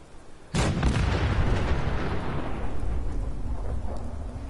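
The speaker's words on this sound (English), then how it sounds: "Artillery fire will kill them." Heavy artillery fire in Fallout 4 erupts after a brief quiet, a sudden loud blast that rolls into a long, dense rumble of explosions and debris, slowly tapering off.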